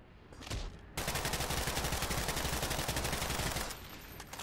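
Rapid automatic gunfire from the sandbox game Garry's Mod, played as a Resident Evil 2 mod, bursts in loud and close and sustains for about three seconds, preceded by a short burst.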